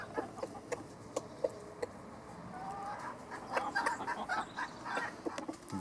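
Soft, scattered clucks from a colorful rooster in a backyard flock, short calls repeating irregularly at moderate distance over faint background noise.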